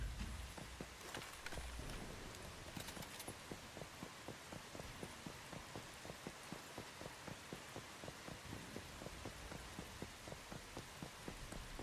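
Steady rain falls in the video game Once Human, a dense, even patter with rhythmic regular ticks running throughout.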